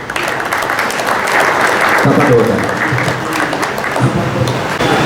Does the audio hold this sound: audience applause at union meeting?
yes